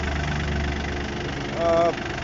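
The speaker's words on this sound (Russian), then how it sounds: "Работает двигатель ровно, без шума, без выхлопа, без стуков." A four-wheel-drive mini tractor engine with a front loader idles steadily with an even low rumble and no knocking, and a brief voice cuts in over it near the end.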